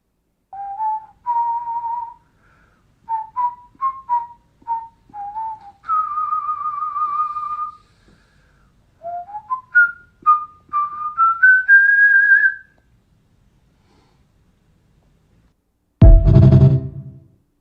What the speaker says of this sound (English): so you can see the whistling, because he's a very good whistler